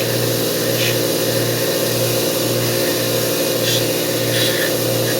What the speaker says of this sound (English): So what we are going to do is run that through the wire wheel.